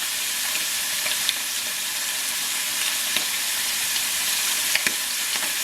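Chicken pieces fry in hot oil in a pan for homemade chicken soup, a constant close sizzle broken by scattered sharp pops and spits.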